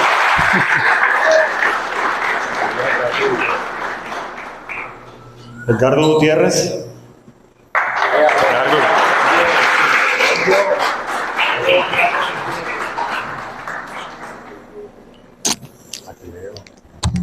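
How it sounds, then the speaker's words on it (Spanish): An audience at an automotive gathering in Barranquilla applauds in two sustained bursts, a long round and then another after a short pause, with a voice speaking briefly between them. "Un aplauso para Richard"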